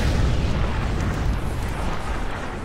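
A loud, sustained explosion in the Spider-Man video game, a dense roaring boom that rumbles steadily for nearly three seconds with no pause.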